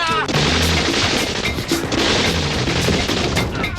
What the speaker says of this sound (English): It sounds like machine guns.